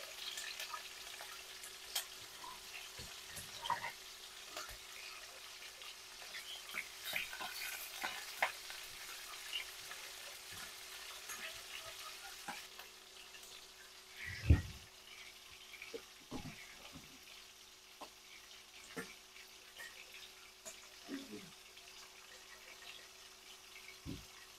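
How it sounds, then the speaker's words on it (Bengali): Green chillies and onion frying in a pan, a soft continuous sizzle with intermittent stirring scrapes and clatters, one louder knock midway, and a quieter, sparser sizzle in the second half. "এখানে কাঁচামরিচ পেঁয়াজ ভেজে নেব আমি"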